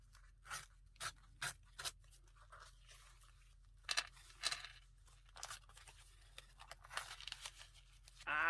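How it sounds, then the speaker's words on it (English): A damp paper coffee filter with glued-on material is torn by hand in short bursts: soft ripping and scraping strokes, close and quiet, separated by brief pauses, with no voices. "Now you've got this on this coffee filter, and then you just tear around it again."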